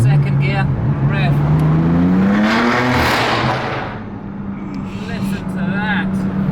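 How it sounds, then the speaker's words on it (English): A BMW M3 F80 with a loud FI exhaust revs hard in second gear inside an underpass, engine pitch climbing steeply, then a whooshing peak, brief dip and settle into a throbbing idle, loud and close. "I'm going to drop down to second gear, rev."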